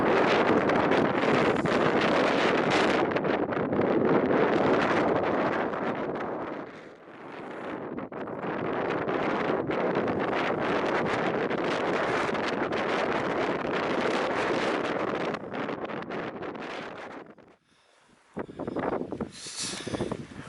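Strong wind roars across the microphone on a hilltop in the Upper Wye Valley, gusting loudly and nearly without a break, briefly easing in the middle and dropping to a near-lull toward the end.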